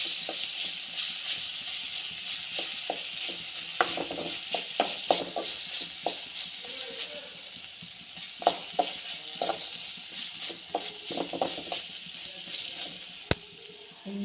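Ginger garlic paste frying in oil, a low steady sizzle broken by repeated scrapes and taps of stirring, with one sharp clack near the end.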